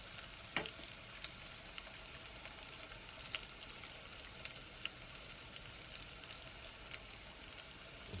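Andouillettes sizzle softly in a pan with white wine, shallots and carrots, a faint, steady crackle with scattered small pops and no voices.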